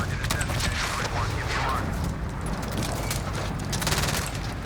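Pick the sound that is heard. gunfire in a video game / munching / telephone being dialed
gunfire in a video game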